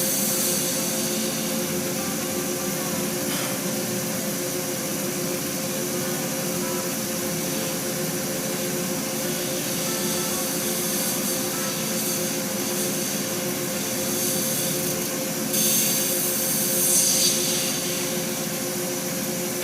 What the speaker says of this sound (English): All I'm doing here is just putting a little undercut in the bottom of the handle.